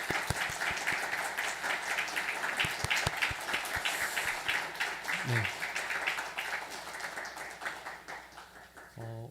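A church congregation at a Sunday worship service applauds to welcome newly registered members, with loud claps, a leader speaking over them, and the clapping gradually thinning out toward the end.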